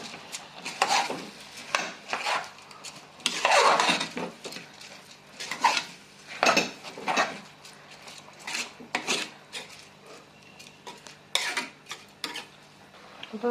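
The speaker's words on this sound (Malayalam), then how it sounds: "നന്നായിട്ടൊന്ന് ഇളക്കി കൊടുക്കാം." Washed ration rice being stirred in a cooking pot for biryani, a series of gritty scraping and rasping strokes against the metal, fairly close, with no talking.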